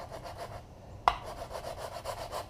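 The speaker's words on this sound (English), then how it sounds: "I got 80 grit on a real nice rigid sanding block." An 80-grit rigid sanding block rubs flat across a guitar body in quick, even back-and-forth strokes, close and fairly quiet, with a single sharp knock partway through.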